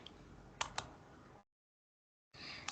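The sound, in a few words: typing on a computer keyboard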